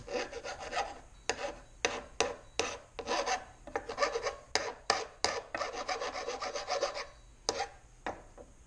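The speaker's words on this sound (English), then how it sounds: "I did file this side down a little bit because some of those were just burrs." Metal burrs are filed off a Corona 3354 weeder: about twenty close, rhythmic rasping strokes, some short and sharp, others longer, with brief pauses between.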